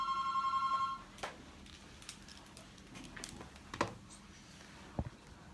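Telephone ringing in short rapid trills for about a second during a live Persian-language radio show, then stopping, leaving faint room noise with a few soft knocks and taps.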